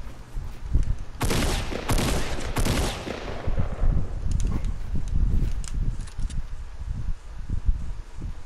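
Bursts of gunfire crack out from another player in a battle-royale video game, several loud volleys packed into the opening seconds before fading into scattered footstep-like rustling and low rumble.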